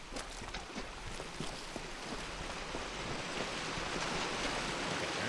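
Steady rushing water from a waterfall in the video game Kingdoms of Amalur: Re-Reckoning, a continuous broadband roar holding even and fairly close for the whole stretch, with no talking over it.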